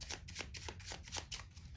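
Close, quiet riffling of a card deck, with rapid rhythmic bursts of flapping cards repeating several times in quick succession.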